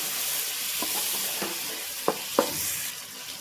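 Turmeric stirred into mixed vegetables in a pan for veg biryani, a quiet steady sizzle with a handful of scraping strokes from the spoon, the two strongest falling close together near the end, no talking.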